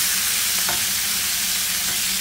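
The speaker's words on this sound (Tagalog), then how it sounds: "Gulta-gulta yung tuna natin" Tuna stir-fried in a pan gives a loud continuous sizzle close by, with faint scraping as it is stirred and no voices.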